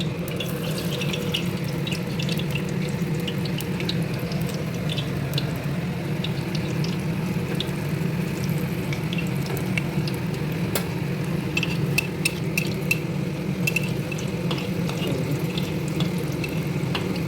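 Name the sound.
pumpkin flower fritters dropped into hot oil, deep frying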